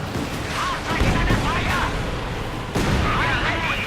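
Mortar artillery fire in Company of Heroes 2 thumps and booms in a battle, with several impacts and bursts spaced across the stretch under a busy mix of game noise.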